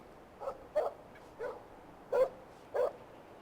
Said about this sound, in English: you might have just heard some dogs barking in the background